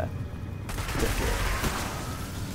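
Heavy gunfire rattles through a Destiny Crucible match in the Combined Arms mode, dense volleys starting abruptly and continuing as a loud continuous barrage.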